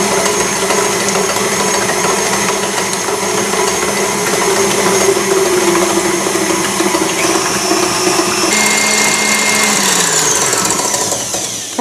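An electric mixer beats eggs and sugar for a Brazilian cake, a loud continuous motor whir with churning batter that holds steady and shifts pitch slightly near the end.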